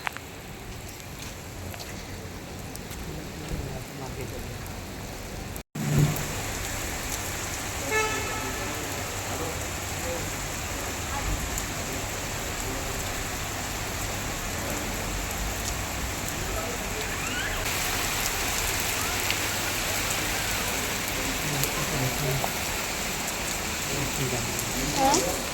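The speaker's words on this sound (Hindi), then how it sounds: "हमने एक राउंड लगाया और बहुत ज़ोर की बारिश आ गई" Steady heavy rainfall hisses throughout, broad and constant, with a brief sharp thump early on and a faint tone humming underneath.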